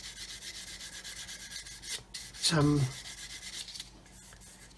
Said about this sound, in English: Maybe if I rub it with a dirty sanding stick, maybe it'll show it up.